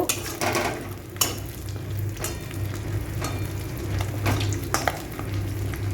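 Dried red chilli, cinnamon pieces and cardamom pods frying in hot oil for a Bengali prawn curry, a steady close sizzle with occasional crackles and a few soft stirring knocks against the pan.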